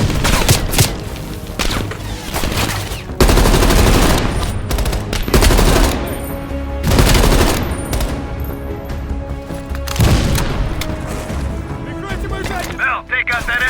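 A heavy machine gun fires in Call of Duty Black Ops Cold War, loud repeated bursts with booming impacts, layered with battlefield noise and voices shouting over the gunfire.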